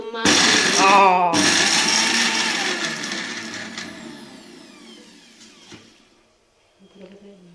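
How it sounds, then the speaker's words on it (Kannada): A kitchen mixer grinder runs loudly at full speed with a steady whir, pauses briefly, then restarts and winds down over several seconds before falling nearly silent, with faint voices near the end. "મિક્સી ચાલુ"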